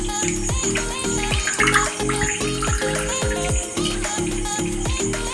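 Water runs steadily from a tap as soybeans are rinsed for a curry, a continuous hiss under rhythmic background music.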